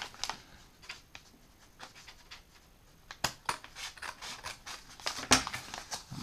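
Scissors snip and scratch at a mailed parcel, a series of short, crisp cutting clicks and rustles that grow more frequent toward the end. The sounds are fairly quiet and close, with no talking.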